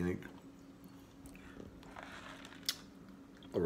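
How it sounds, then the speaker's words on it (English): Crunchy organic cinnamon raisin granola cereal with almond milk being chewed, soft close crunching and mouth sounds at low level, with a few sharper clinks near the start and end. "Back at the house, eating some cereal"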